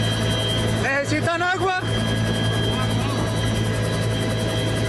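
Army helicopters on a rescue operation drone loudly and continuously with a steady rotor whine, while a person briefly speaks over the noise.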